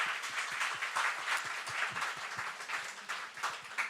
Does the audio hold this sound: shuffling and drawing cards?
no